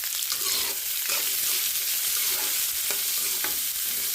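Crushed garlic and onion sautéing in a hot pan while a spoon stirs, giving a constant bright sizzle with periodic scraping strokes; no one speaks.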